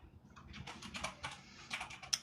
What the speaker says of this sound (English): I like the sounds of him typing in the background